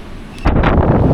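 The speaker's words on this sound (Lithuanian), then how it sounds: "Vėjota." Wind gusts across the open deck of a large ferry, a sudden loud buffeting roar that bursts in after a brief quieter moment.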